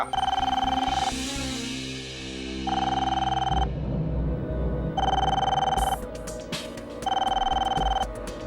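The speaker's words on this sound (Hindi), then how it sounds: "फोन उठाओ" A telephone rings loudly in repeated electronic bursts, with pauses between rings and a low hum underneath.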